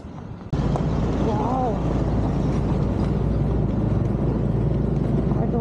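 A scooter climbs a steep mountain road on the Tungnath to Badrinath highway, its engine a steady close drone mixed with heavy wind rush that kicks in abruptly and stays loud throughout.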